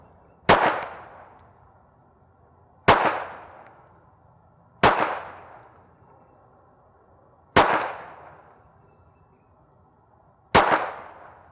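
Five sharp handgun shots fired slowly at 3 yards, evenly spaced about two to three seconds apart, each a loud crack followed by a short decaying ring against quiet background.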